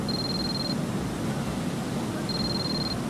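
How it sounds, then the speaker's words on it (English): A cell phone ringtone from the international version of Metal Gear Solid 2 rings twice as a thin, steady high electronic tone, each ring under a second long, over a constant hiss of background noise. "In all the international versions, the ringtone sounds like this."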